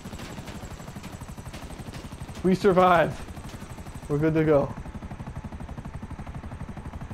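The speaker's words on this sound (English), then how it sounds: "Look at this chopper." A helicopter in a video game gives a fast, continuous rotor chop throughout, with two brief spoken phrases rising over it in the middle.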